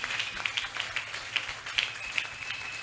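An audience in a church service claps and applauds in celebration of Jesus, a brisk run of sharp hand claps at mid distance that continues steadily throughout.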